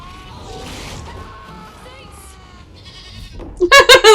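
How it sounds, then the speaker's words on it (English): A goat bleats several times in quick, loud pulses near the end, after a quieter stretch of mixed background sound. "The goat."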